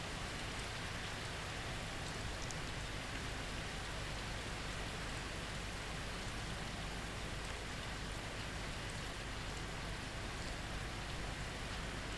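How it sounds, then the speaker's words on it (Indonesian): Steady rain falls throughout, a dense, even hiss of drops on surfaces with no breaks and no voices. "Mohon maaf apabila berisik karena memang di sini kondisinya sedang hujan."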